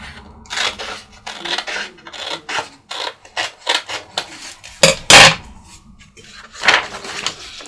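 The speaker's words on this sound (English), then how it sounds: "I do need to cut off the bottom though so that I can do my little 1/2 inch fold" A paper journal card is being cut along its bottom edge, heard as a series of close, scratchy rasping strokes with brief pauses, and a sharper burst of cutting near the middle.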